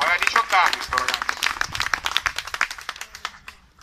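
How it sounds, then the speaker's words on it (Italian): An outdoor crowd at a rally in front of the Rome prosecutor's office claps and applauds, tapering off over a few seconds, while a speaker talks through it. "fategli l'applauso"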